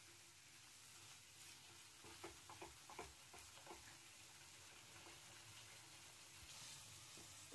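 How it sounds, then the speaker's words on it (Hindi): Salt, coriander powder, turmeric and Kashmiri red chili roasting in oil in a pan for cauliflower kofta gravy, a faint, low sizzle with a few quiet stirring scrapes in the middle. "तो ये देखिए मसाले अच्छे से भुन चुके हैं और इन्होंने ऑयल भी रिलीज कर दिया है।"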